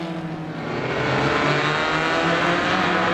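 Race cars roaring at Star Speedway during a Roadrunner heat race, a loud sustained engine drone that swells as the pack accelerates, close and continuous without talk.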